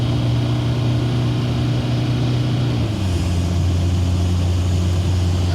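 A GMC 1500 pickup with a swapped TDI diesel accelerating at speed: a steady droning engine hum that drops in pitch partway through as it shifts, loud and continuous inside the cab.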